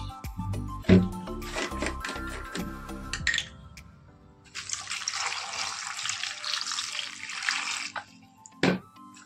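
Water splashing and being sprinkled while items are washed, Ganges water used for a ritual, with brief clinks at first and then a steady rush of running water, close by.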